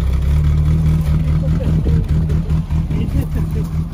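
A youngtimer car's engine runs through its perforated original exhaust, giving a steady, loud, low burbling drone with slight rises in pitch, while people talk nearby.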